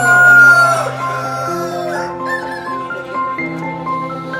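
Roosters and hens at a government regional poultry breeding farm in Manarcad, Kottayam, among plants and flowers, with loud, close crowing and clucking calls overlapping one after another in several long drawn-out cries.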